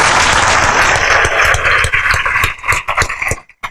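Audience at a UPSC toppers' felicitation event claps together in loud, dense applause that thins out and stops after a few seconds.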